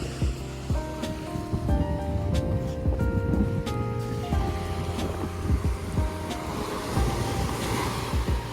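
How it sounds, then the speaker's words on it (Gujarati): Sea waves break steadily on the shore at Dwarka, Gujarat, a loud continuous surf wash with wind rumbling against the microphone and no one speaking. "પછી આપણે આવી ગયા દરિયાની મોજાની લહેરો જોવા માટે"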